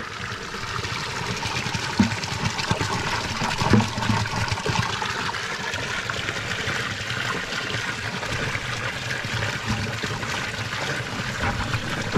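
Water gushes steadily and loudly from an intake pipe fed from a pond, a constant rushing flow with no pauses or voices.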